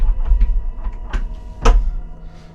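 A locked house door being tried and rattled indoors, a few short knocking clatters and thumps with one sharper rattle near the middle, close and fairly loud, no talking.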